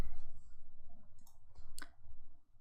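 A few scattered clicks of keys being typed on a computer keyboard while a password is entered during a Solaris 11.3 install, faint and close against a low background rumble, with no talking.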